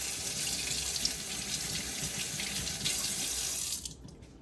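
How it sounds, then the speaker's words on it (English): Milk frother part from a coffee machine rinsed under a running tap, a steady close splashing hiss of water into a sink that runs continuously and then cuts off abruptly near the end. "you can rinse it under current water"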